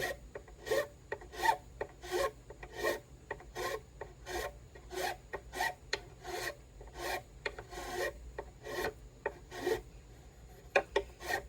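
A file rasping along the sharp edge of a guitar nut on a Gretsch Streamliner, a steady rhythm of about twenty short strokes, close and fairly soft, with no talking.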